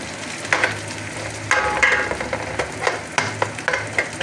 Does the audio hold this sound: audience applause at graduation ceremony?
no